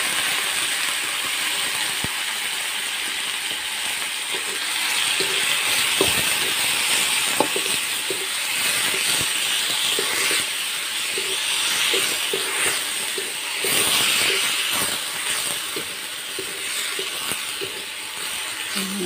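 Sliced vegetables for vegetable lumpia being half-cooked in a pan, a steady dense sizzle and hiss running throughout, with occasional faint clicks and scrapes of a utensil.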